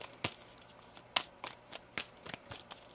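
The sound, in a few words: tarot cards being shuffled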